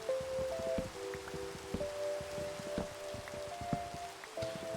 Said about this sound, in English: Can hear how loud the rain is, so we'll just stop here.